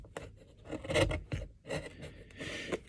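A chisel cleaning up a wooden dovetail joint by hand, producing short close scraping and paring strokes in an irregular rhythm, quiet and unaccompanied by talk.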